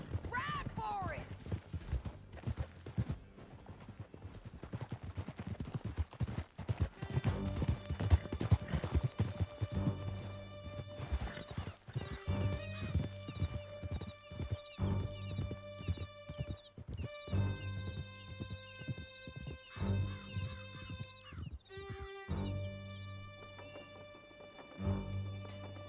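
A horse gallops in Red Dead Redemption 2, with steady clip-clop hoofbeats and occasional whinnies running throughout, mixed with game music and voices talking over the ride.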